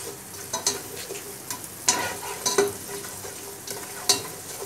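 Ginger-garlic paste stirred into a little hot oil over low heat while tempering for Hyderabadi mutton haleem: a steady soft sizzle with scraping stir strokes and a few sharper clinks, close and moderately quiet, with no talking.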